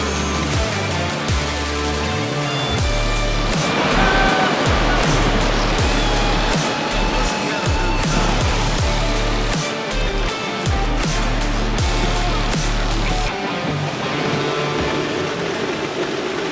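Large waterfall in the Monteverde cloud forest of Costa Rica, a loud, continuous roar of falling water heard up close, with some gusty, rumbling buffeting mixed in.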